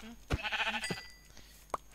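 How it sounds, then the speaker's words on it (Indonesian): Goats in a video game give a short wavering bleat, followed by a couple of faint clicks and a brief tone, fairly quiet. "Okay, kambing-kambing!"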